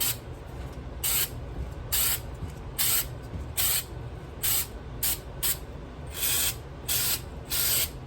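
Spray paint with a metallic finish hissing from an aerosol can onto a foam mannequin head planter, held well back, in about ten short separate bursts spaced roughly evenly over a steady low background.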